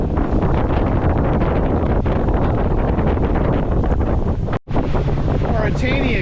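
Strong wind roars steadily across a small sailboat sailing solo at Hurricane Gulch off Avalon, around 13.8 knots, buffeting the microphone with constant broadband rush and one brief dropout near the end.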